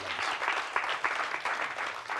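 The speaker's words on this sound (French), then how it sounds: "On les applaudit encore, s'il vous plaît." A French TV studio audience on the A+ programme On se dit les Gbê applauds the show's guests with a dense, even burst of clapping close to the microphones.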